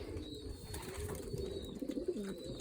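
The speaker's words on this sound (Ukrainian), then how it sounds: "Злітаються голуби." Pigeons coo softly and steadily at close range, with faint wing flutters as the birds gather, and no voices present.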